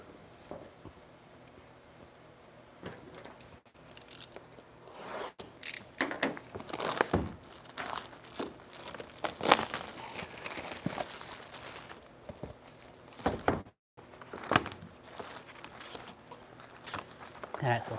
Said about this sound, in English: the one that's made in China does come wrapped in this plastic bag